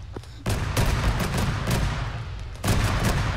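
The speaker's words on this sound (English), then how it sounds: "We are under fire by an enemy Vic." Sustained fusillade of gunfire from an enemy vehicle during an ArmA 3 combined-arms battle, dense rapid bursts filling the clip with a brief lull before the firing resumes even louder.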